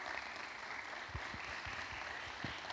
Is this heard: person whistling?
no